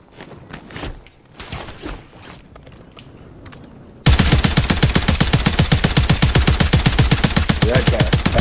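Gunfire in a Call of Duty match: a few quiet scattered clicks and movement sounds first, then a sudden loud, sustained burst of rapid automatic fire.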